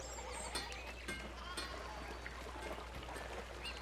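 Sheep bleating in the medieval village of the video game Pentiment, several faint, short bleats scattered over a quiet ambient bed with soft trickling water.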